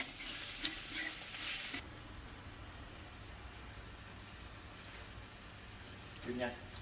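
Crocodile meat stir-fried in a pan for an Isan-style dish, a loud hiss of sizzling and stirring in the first two seconds, then a quieter steady frying murmur with a brief burst of scraping near the end, speech in the background.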